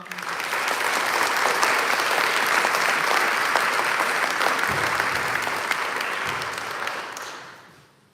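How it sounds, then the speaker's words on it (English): Enthusiastic audience applause after a middle school band's spring concert performance, a loud dense wash of clapping from a full room that holds steady and then fades out at the end. "another round of applause for them"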